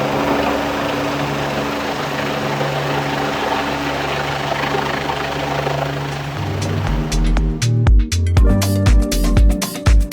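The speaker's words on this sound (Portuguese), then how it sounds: "Um helicóptero" Helicopter flying low overhead as it comes in to land on a building, a loud steady rotor and engine drone that turns to heavy rhythmic thumping near the end, with no voices.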